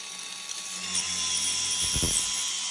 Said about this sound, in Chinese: 打孔用角磨机钻头，这几天使用的是屡试不爽